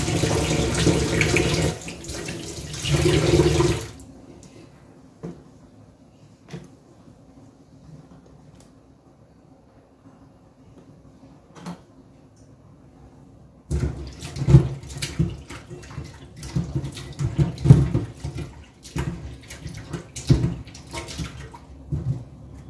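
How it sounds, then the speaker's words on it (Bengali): Potatoes washed under a running kitchen tap: a loud gush of water opens, then a quiet stretch of small clinks and drips, before the water runs again with splashing and handling. "আলুটা ধুয়ে নিয়ে"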